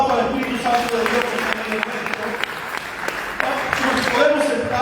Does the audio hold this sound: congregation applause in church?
yes